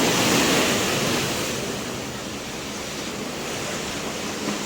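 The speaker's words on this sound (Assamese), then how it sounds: "এয়া ৰাতিৰ সমুদ্ৰ" Night sea waves on Hikkaduwa beach in Sri Lanka roll in as a steady, broad wash of surf, loud and continuous with a slight swell at the start, with no voices.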